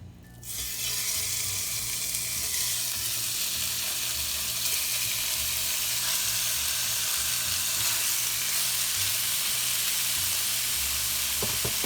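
Pork meat sizzling in about three tablespoons of hot olive oil, a loud, steady frying hiss that starts abruptly as the meat goes in and continues without pause.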